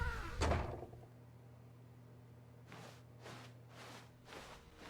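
A door opening in The Stanley Parable game: a brief knock-like thump near the start, then a steady low hum and a series of soft rhythmic whooshes, with no talk.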